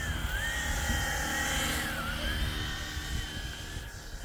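A small RC model helicopter styled on the Hill HX50 whirs steadily with its little eight-bladed tail propeller spinning during a test, a continuous near motor drone with a faint rising and falling whine and no talk.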